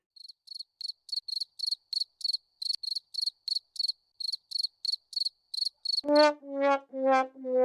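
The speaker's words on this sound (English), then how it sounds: "Wait, do I even have the cricket sound?" A cricket chirping sound effect gives a run of short, evenly spaced high chirps. It then gives way to a few louder, lower harmonic tones near the end, with no talking.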